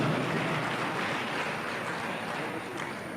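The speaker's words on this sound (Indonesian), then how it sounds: "Tepuk tangan buat Indonesia." Audience applause for Indonesia at a gathering, a steady dense wash of clapping that stays loud and even for the whole stretch with no voices on top.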